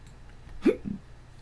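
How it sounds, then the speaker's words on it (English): A single person hiccups in a kitchen, one short soft hic followed by a fainter second catch against quiet room noise. "Somebody got the hiccups."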